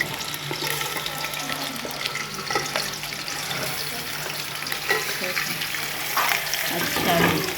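Chicken pieces frying in hot oil for biryani, a steady sizzle and crackle with stirring and clattering sounds layered over it, the frying continuous throughout.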